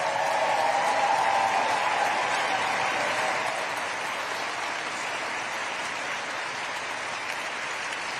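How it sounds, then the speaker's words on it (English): Sustained audience applause at the James Beard Awards ceremony, a dense wash of clapping that is loudest at first and then eases slightly while continuing throughout. "Please give a huge round of applause."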